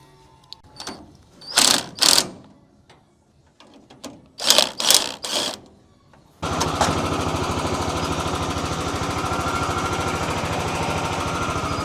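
A bin filler machine for harvesting Dutch Conference pears, heard first as intermittent loud clanks and bangs, then running continuously as a steady whirring mechanical drone, close by and loud.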